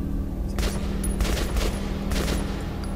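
Rapid bursts of automatic gunfire in the video game Metro Last Light, several close, sharp reports in quick succession over a steady low game rumble, with no talk.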